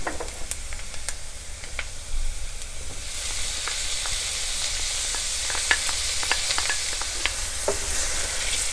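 Onions and bacon lardons sautéing in a pan for stuffed butternut squash, a continuous close sizzle that grows brighter and louder midway, with scattered stirring clicks and no voices.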